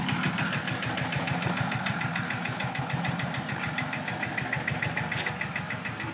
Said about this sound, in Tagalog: Ito naman boss yung sira nating makina